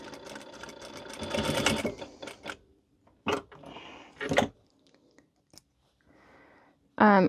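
A standard straight-stitch sewing machine runs through a cat bandana in a steady, buzzing burst, then stops for short fabric handling noises and clicks, then starts again briefly. Faint speech is also present.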